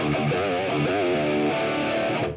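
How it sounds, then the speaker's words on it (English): An ESP E2 electric guitar in drop D is played through heavy distortion with a little room reverb, sustaining loud, thick notes with bending pitch that ring continuously before cutting off. "Guitar, ESP, E2. It's in standard tuning, but drop D for the moment."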